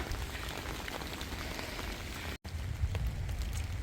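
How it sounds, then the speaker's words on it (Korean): Rain pours outdoors on a mountain trail in December, a dense, steady hiss of drops hitting the ground that cuts out for a split second and then resumes at the same even level. "비가 내리니"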